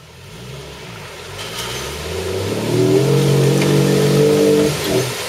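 A Jeep drives through a mud hole, its engine note climbing steadily and revving harder toward the end, with sloshing mixed in; no one talks.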